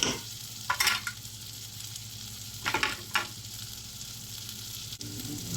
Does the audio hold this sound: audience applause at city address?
no